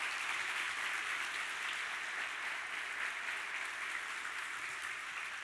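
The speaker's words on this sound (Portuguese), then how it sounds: "Pode aplaudir." A church congregation applauds, a dense, even wash of clapping from many hands that holds steady and fairly faint throughout with no voices.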